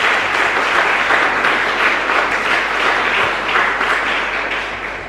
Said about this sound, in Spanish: Fuerte aplauso para el Señor.